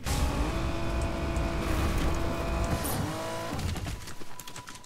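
A car in the Fortnite video game drives close by, its engine humming steadily with a rising and falling pitch for several seconds, then fading and cutting off near the end.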